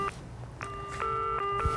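A telephone keypad sounds a quick series of about five short dialing beeps, spaced unevenly and heard quietly in a calm room.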